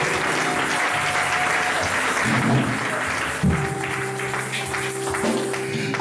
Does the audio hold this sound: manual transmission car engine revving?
no